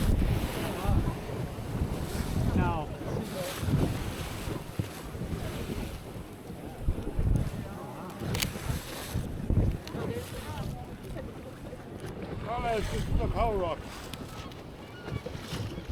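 A boat moving over open sea off the Beara Peninsula, West Cork, Ireland, with wind buffeting the microphone and waves sloshing, while people talk over the noise.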